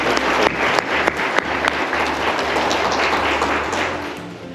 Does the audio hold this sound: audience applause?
yes